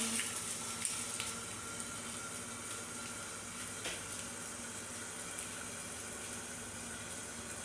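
Tomatoes and egg sautéing in a covered pan give a steady, moderate sizzle with faint crackles and occasional soft pops throughout, with no voices.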